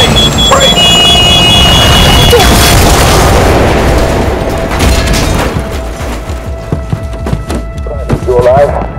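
Tank attack explosions in the Battlefield Mobile video game: heavy booming thuds and bursts dominate the opening seconds, loud and close, then settle into rumbling battle noise with shouted voices mixed in.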